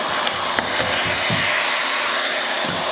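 A heat gun roars steadily while a scraper strips old varnish from the wood of a 1937 20-foot Lyman boat, producing a constant loud hiss with faint scraping strokes underneath.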